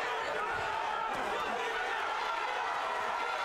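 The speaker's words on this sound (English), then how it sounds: "You hear the crowd starting to chant for Jab and Joe." Boxing arena crowd at the Joe Wilson Jr. vs. Saul Almedia fight, a continuous roar of voices chanting for a fighter late in round four, with a commentator talking over it.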